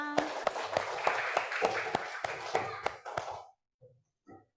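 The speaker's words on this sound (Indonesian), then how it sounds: "Tepuk tangan." A small classroom group claps in a quick, fairly regular rhythm of about a dozen sharp claps, then stops, leaving a couple of faint voice sounds.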